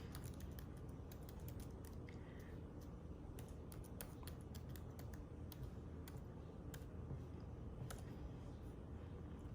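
Fingers typing a new password on a computer keyboard, a quick irregular run of light key clicks over a faint steady hum, close and quiet with no talking.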